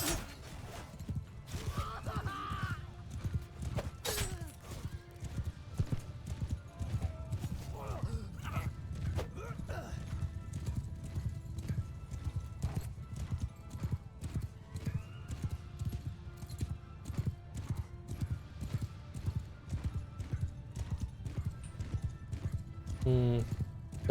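Horses galloping in the medieval battle game Mount & Blade II: Bannerlord, a steady rolling clip-clop of many hooves under a continuous battlefield din, with occasional creaks and a whinny, while someone talks over it.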